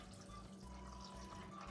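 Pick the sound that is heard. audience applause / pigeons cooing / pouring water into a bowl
pouring water into a bowl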